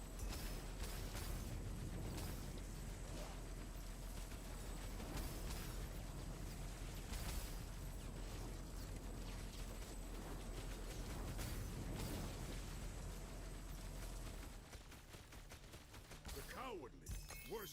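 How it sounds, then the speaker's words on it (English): Icy frost explosions from Herald of Ice in Path of Exile shatter repeatedly in a dense, continuous wash of layered game effects that barely lets up before thinning near the end. "The frost explosion noise is so good."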